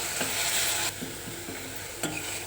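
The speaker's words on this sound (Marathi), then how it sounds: "आता हे छान असं परतवून घेऊया" Masala paste with Byadgi chilli powder being sautéed in oil, a steady close sizzle with intermittent scraping stirs of a spoon in the pan, no voices.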